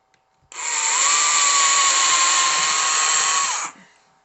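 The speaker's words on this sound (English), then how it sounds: "I'm just going to pre-drill" A power drill pre-drilling a hole in wood whirs steadily for about three seconds, starting and stopping abruptly, loud and close, with a high continuous whine.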